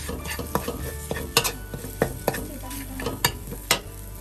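Shrimp stir-fried with holy basil in a wok, with a busy steady sizzle under repeated sharp scrapes and clacks of a spatula against the pan, close and fairly loud throughout.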